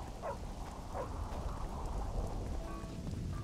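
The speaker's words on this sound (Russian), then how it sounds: "Дождь все идет и идет." Steady rain hisses throughout with a low rumble of thunder underneath, a continuous stormy wash with no voices, in the video game The Witcher 2.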